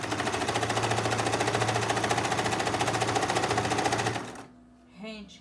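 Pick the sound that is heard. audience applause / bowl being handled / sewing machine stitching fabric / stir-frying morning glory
sewing machine stitching fabric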